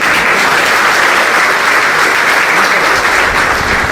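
Loud, dense applause from a large crowd at a political rally, steady and continuous throughout with no break and no clear voices on top.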